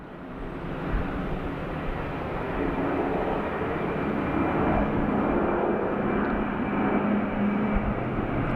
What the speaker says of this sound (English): the Qantas 43 is going now. Off to Bali. The A380.